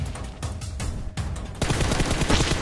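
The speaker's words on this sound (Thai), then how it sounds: "เอายิงกันแล้วว่ะยิงกันแล้วว่ะ" Gunfire in PUBG Mobile, a few sharp separate shots followed by a sustained burst of rapid automatic fire, loud and close with no talking.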